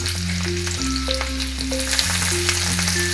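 Garlic cloves dropped into hot oil already tempering with a few fenugreek seeds crackle and sizzle steadily and close, with a sustained tonal music bed running underneath the frying.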